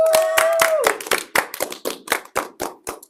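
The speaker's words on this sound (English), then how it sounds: "Clap, y'all." An audience in a full room at a student talk show claps in a rhythmic string of sharp, close claps that slows to separate beats, with a brief voice heard at the start.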